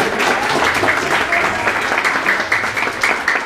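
A crowd claps loudly and continuously at a motivational talk for young music students, a thick wash of applause that holds steady for a few seconds.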